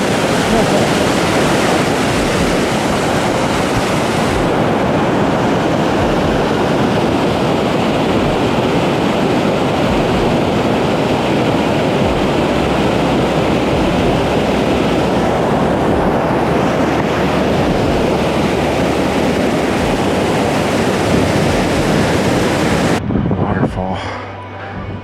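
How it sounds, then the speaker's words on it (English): A waterfall beside a hiking trail at a rocky stream crossing gives a loud, steady roar of rushing water that fills the whole clip and cuts off abruptly near the end. "Waterfall."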